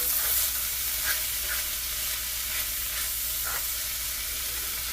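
Corn chowder ingredients fry in a pot with a steady, even sizzle and hiss, broken now and then by soft stirring scrapes.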